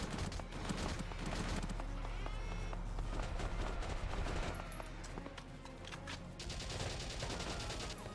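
A tank firing in the video game Valkyria Chronicles amid a dense, continuous battle din of shots and rumbling, held at a steady moderate level with no clear voices.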